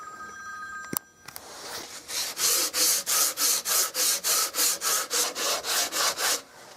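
An 80-grit sanding block scrubs rhythmically across the wooden stock of an H&R 28-gauge shotgun during restoration, giving about fifteen steady, evenly spaced strokes up close after a brief knock.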